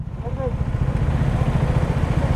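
A Kawasaki Z900 motorcycle idling up close, its engine a loud, steady, rapid throb, while a voice talks briefly over it.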